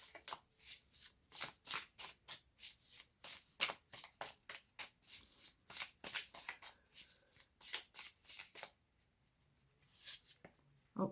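Healers of the Earth oracle card deck being shuffled by hand, a close series of rapid riffling and flicking card bursts in an uneven rhythm, pausing briefly before a final few shuffles, with no speech.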